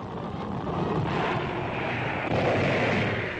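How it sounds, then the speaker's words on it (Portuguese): Continuous heavy rumbling boom of naval gunfire from a World War II warship firing at the shore, blending into a dense roar, loud and sustained with no distinct gaps and no voices. "A heróica tripulação do Savannah continua a atirar contra a praia"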